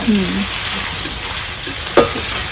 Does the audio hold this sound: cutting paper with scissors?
no